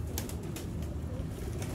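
Choohay pigeons, an old genuine breed kept for decades, give soft low cooing in a short burst, faint and close against quiet background noise.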